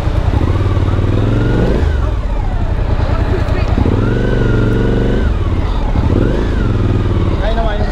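Motorcycles ride through a flooded road in Ecuador where an overflowed lagoon covers the way, their engines running loud and steady with rises and dips in revs, while people talk close by over the noise.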